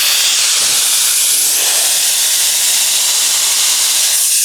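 Compressed air hisses loudly and continuously from a pneumatic blind rivet tool as the air supply is turned on, a steady broadband rush filling the whole moment with no talking.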